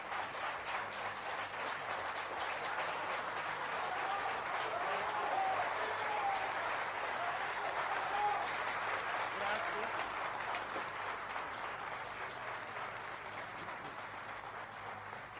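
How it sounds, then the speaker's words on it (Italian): Warm, sustained applause from a concert audience, a dense wash of clapping that holds steady throughout with a faint crowd murmur underneath. "Io vi ringrazio tanto per questo applauso caloroso"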